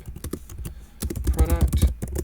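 Quick clatter of keys on a computer keyboard during coding, soft close tapping in an uneven burst that grows busier toward the end.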